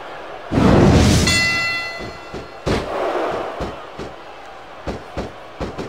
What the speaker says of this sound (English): This capacity crowd is certainly getting its money's worth here tonight.